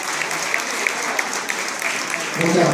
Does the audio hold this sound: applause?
yes